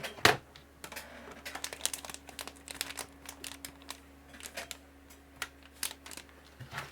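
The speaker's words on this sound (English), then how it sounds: "So let me just get my regular keyboard." Soft clicks, taps and plastic rustling from a regular wired computer keyboard being picked up and handled, with scattered quiet knocks over a faint steady hum and no talking.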